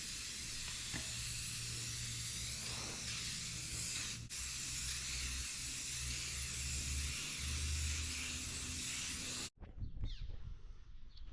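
A steady, close hiss of lacquer being sprayed over five chainsaw-carved wooden bears, continuous for about nine seconds before cutting off abruptly, followed by faint handling noise.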